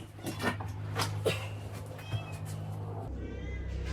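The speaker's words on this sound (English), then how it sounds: "You hear my cat in the background? She wants to come out." A cat meows several times at a distance, plaintive and drawn-out, over a low steady hum.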